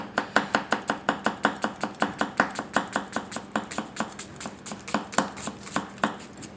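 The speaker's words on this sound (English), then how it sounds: "Do a little chop here." A Goko White #1 240 mm gyuto chops in a quick even rhythm on a cutting board, each crisp knock clear and close. About two dozen cuts come back to back, slowing a little near the end, with no speech.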